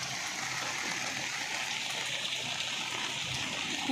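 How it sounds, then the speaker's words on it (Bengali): Rain falls steadily outdoors as an even, dense wash of patter that holds at the same moderate level throughout, with no breaks and no voices. "দেখো বৃষ্টি কেমন হচ্ছে"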